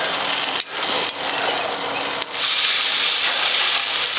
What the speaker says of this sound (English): you can hear that they're starting to sizzle a little bit